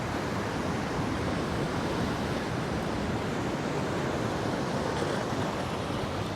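Sea waves at Banganga near Somnath wash in as a steady, faint, broadband surf hiss, with some wind noise mixed in and no voices.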